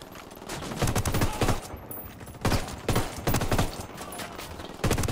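Bursts of automatic gunfire crackle in the Ghost Recon Wildlands video game during an assault on a casino, several sharp volleys separated by brief pauses, loud and up close with no talk over them.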